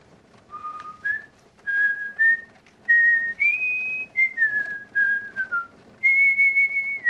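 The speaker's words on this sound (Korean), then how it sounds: "휘파람으로 프랑스 국가 라 마르세이에스를 부르기 시작했다." The French national anthem, La Marseillaise, whistled clearly and close up, with sustained pitched notes in short phrases and brief pauses between them.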